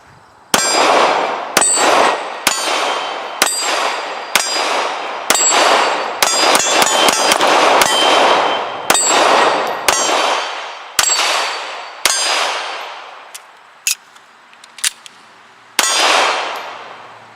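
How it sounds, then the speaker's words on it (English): CZ P-10C pistol firing a string of about a dozen sharp, loud shots in an uneven rhythm, each with a brief ringing tail, and a few faint metallic clinks in the gaps near the end. "Let's get back to shooting this thing."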